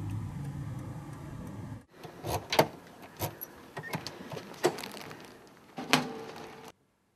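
A car is being driven, with a low, faint interior engine hum that gives way to quiet clicks and soft knocks from the cabin.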